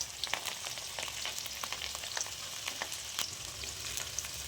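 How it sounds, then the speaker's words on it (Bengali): Whole cumin and whole garam masala (cinnamon, cardamom, cloves) frying in hot oil in a kadai, giving a steady close crackling sizzle with scattered sharp pops throughout, no voices. "এবার কড়াইয়ে পরিমাণ মতো তেল দিয়েছি, তাতে প্রথমেই দিয়েছি গোটা সাদা জিরে আর গোটা গরম মশলা"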